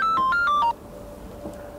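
A telephone ringtone for an incoming call plays a short stepped electronic melody, clear and fairly loud, then stops abruptly and leaves low room noise.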